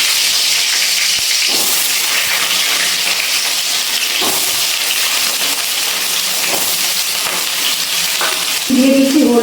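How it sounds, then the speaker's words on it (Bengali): Small-cut potato pieces fry in hot oil in a wok over a high gas flame with turmeric and salt, a loud, steady sizzle running throughout, broken by a few faint stirring scrapes near the end. "আলুটা ভালো করে লাল লাল করে ভেজে নিচ্ছি।"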